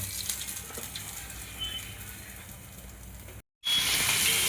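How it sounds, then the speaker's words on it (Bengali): Gokul pitha frying in oil, a steady crackling sizzle close by that cuts out briefly near the end and then returns louder. "এরকম করে আমি সবগুলো ভেজে নেব"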